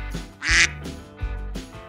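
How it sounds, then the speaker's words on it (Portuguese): A farm duck quacks in a few short nasal bursts, loud and close, with one strong call standing out, alone with no voices. "Muito bem, o pato."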